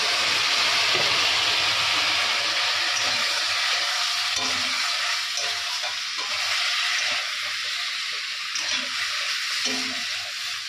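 Curry masala sizzles in a pan as it is sautéed (kosha), a steady bright frying hiss throughout with occasional stirring scrapes and pops, close and continuous.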